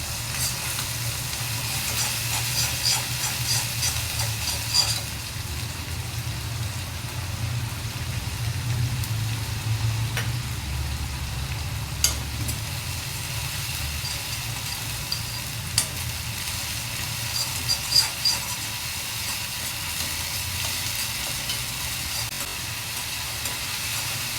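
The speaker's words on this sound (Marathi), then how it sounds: "हिरवी मिरची कांदा लसूण एक्स्ट्रा मसाला वाटण केलेला तो चांगला छान असा फ्राय करून घेऊया" Green chilli, onion, garlic and ground masala frying in a pan, a steady soft sizzle with a low hum underneath and occasional faint clicks of stirring over a long stretch.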